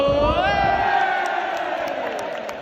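A football crowd chants at referee Kevin Friend during a friendly match. Many voices sing a loud, sustained chant with rising and falling tones over a constant roar of crowd noise.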